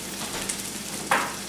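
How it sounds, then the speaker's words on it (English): Pizza slices sizzle as they reheat in a frying pan, a soft, steady crackle close by with a sharper burst of frying near the end. "what we're basically gonna do is just reheat our pizzas using a frying pan"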